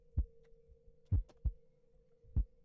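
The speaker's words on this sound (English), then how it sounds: "just sitting here listening to heartbeats" Heartbeats thump in a video game, four low, muffled beats spaced unevenly with a faint steady hum beneath, quiet and close.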